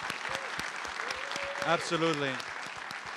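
A live audience at a science conference applauds in a steady wash of clapping, while a voice speaks briefly over it.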